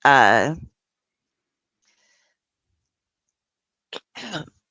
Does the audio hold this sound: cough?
yes